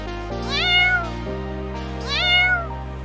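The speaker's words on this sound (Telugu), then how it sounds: "ఈ తూరు కూడా పిల్లి మాదిరి అరిచినాడు" A lion cub named Leo meows like a house cat: two drawn-out, rising-and-falling meows, each about a second long, sounding close and clear over a low, steady background hum.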